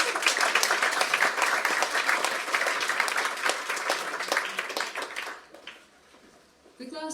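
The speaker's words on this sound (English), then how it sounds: "So round of applause for Ellen, please." A live audience at a storytelling evening breaks into sustained applause, dense overlapping claps filling the room for about five seconds before quickly fading out, with a brief rustle and faint sound after the clapping ends.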